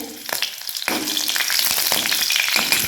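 Green chillies and cumin hit hot oil with curry leaves already crackling, bursting into a loud, close, continuous sizzle with sharp pops and a little stirring.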